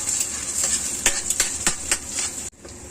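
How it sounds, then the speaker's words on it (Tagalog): Garlic frying in a hot pan for sinangag fried rice, a steady bright sizzle with several quick scraping stirs before the hiss suddenly drops away. "Ayan, nilagay ko na yung bawang."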